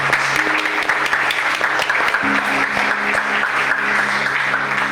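A church congregation applauds steadily during a worship service, a dense wash of many hands clapping for the full stretch, with a low sustained tone running underneath.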